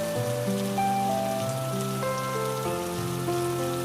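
Steady rain falls over a village as a constant broadband hiss, with a soft melodic music line playing over it and no voices.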